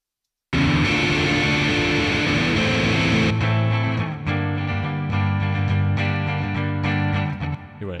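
Simulated guitar amp sound, miked and sent through reverb, played loud and distorted with sustained chords and ringing notes for several seconds, with no talking.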